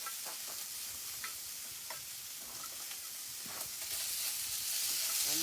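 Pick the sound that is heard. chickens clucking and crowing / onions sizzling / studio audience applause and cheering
onions sizzling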